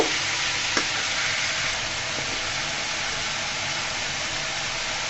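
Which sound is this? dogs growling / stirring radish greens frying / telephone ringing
stirring radish greens frying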